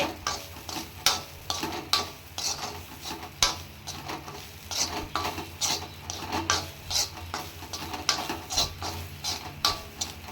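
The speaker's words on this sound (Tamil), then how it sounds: "தேங்காவை நல்லா வதக்கிடுங்க" A spoon repeatedly scrapes and stirs grated coconut in a pan with a soft sizzle underneath, producing rhythmic scraping and clinking strokes.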